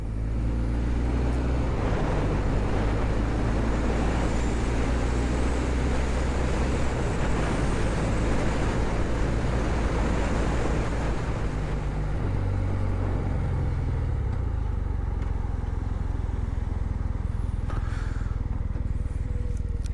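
A cafe racer motorcycle ridden on the road, its engine droning loud and continuous with heavy wind rush throughout, the pitch shifting slightly as it changes speed.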